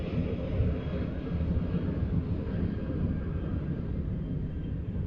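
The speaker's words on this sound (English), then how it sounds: "that sounds like some military planes here." Military planes fly overhead, producing a low, continuous rumbling drone that holds steady and fairly loud across the whole stretch, with no voices.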